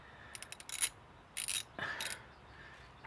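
A 17mm socket on a ratchet works loose the engine oil drain plug of a Can-Am Outlander 1000XT, giving a few faint, short metallic clicking bursts separated by quiet pauses.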